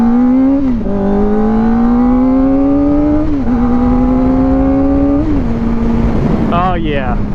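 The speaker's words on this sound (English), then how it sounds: "let's give it a little twist of the throttle" Kawasaki ZX-4RR 399cc inline-four sport bike fitted with a Yoshimura slip-on exhaust, revving loudly and close up in three rising throttle blips that each drop back to a steady idle, ending with quick sharp revs.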